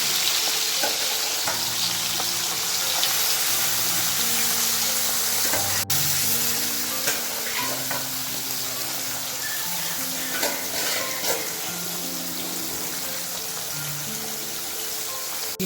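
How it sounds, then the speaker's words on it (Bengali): Taro stems fry in a pan with a steady, dense sizzle that holds at an even level throughout, with faint stirring clinks scattered over it and one sharp click near the middle. "কচু গাছগুলোকে ভেজে দেওয়া হচ্ছে।"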